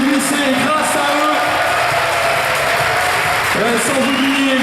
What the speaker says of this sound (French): Voilà donc vos applaudissements pour les fondateurs du Saint-Nazaire Volleyball Atlantique.